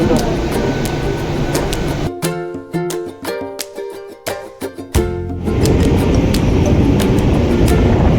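Steady loud rumble and rattle of a fast Mumbai local train heading to Churchgate, briefly dipping into a quieter hollow stretch with clanking, then roaring again, voices faintly underneath.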